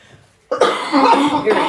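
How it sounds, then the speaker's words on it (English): After a brief quiet moment, a loud, close cough bursts out, followed by a rough, rattling continuation with no words spoken. "Excuse my cough"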